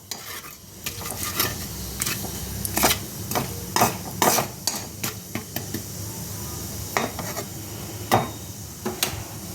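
Whole cumin seeds being stirred in a hot pan, with repeated scraping strokes of a spoon against the metal over a low sizzle, irregular clinks spaced through the stretch, no voices.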